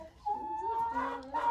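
A hen, fresh from laying an egg, clucks close by in a short string of drawn-out, nasal calls with no talking over them.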